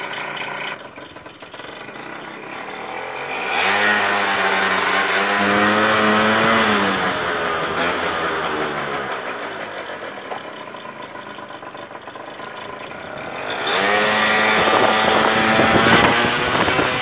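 A cold Peugeot Ludix scooter engine runs outdoors in a courtyard, a steady buzzing drone that revs up briefly around the middle and again near the end, rough and uneven, with no talk.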